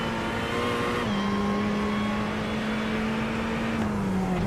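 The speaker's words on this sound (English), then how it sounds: "The wonderful sound there of the Ferrari's V8 engine" A Ferrari GT3 race car's V8 engine drones at high, steady revs on the Daytona track during a qualifying lap, heard from on board, with a brief pitch dip as it shifts and no voices.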